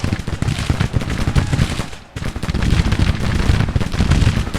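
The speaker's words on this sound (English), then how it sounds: "What are the cannons shooting at?" Cannon and rifle fire from a Grand Tactician Civil War battle, a dense, loud barrage of overlapping shots with a brief lull midway before the firing swells again.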